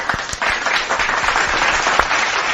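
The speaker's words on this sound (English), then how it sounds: "Let's give him a round of applause." Loud, dense applause from a crowd, continuous and close, with a few sharper claps standing out.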